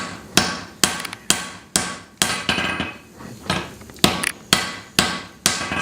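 A hammer strikes a forge weld on a hatchet in steady, evenly spaced blows, about a dozen loud ringing metal impacts close by, each with a short decay.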